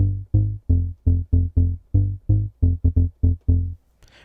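Melodic tech house synth bass patch built in Vital, with oscillator 2 routed through filter 1, playing a rhythmic sequence of about a dozen short, punchy notes with a deep low end, alone and loud.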